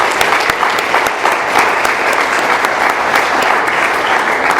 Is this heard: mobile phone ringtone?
no